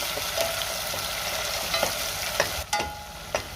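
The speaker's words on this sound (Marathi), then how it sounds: "मी टोमॅटोची पेस्ट परतून घेणार आहे" Tomato paste sautés in hot oil in a home kitchen for a Marathi vegetable curry, a steady close sizzle broken by a few scraping stirs of a spoon against the pan, with no talking.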